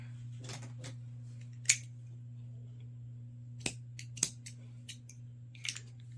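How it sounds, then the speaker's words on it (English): Scissors snipping crochet yarn, a few sharp close clicks spaced irregularly over a steady low electrical hum, with no talking. "and then we're gonna cut our yarn"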